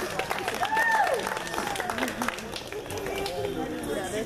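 An audience at a cosplay contest applauds, a broad wash of clapping and crowd noise heard close, with an announcer's voice over it.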